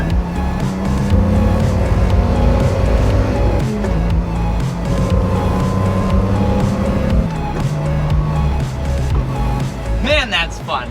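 Datsun 280Z engine accelerating while driving, a loud close drone rising in pitch through the gears with brief shift dips, under someone talking throughout.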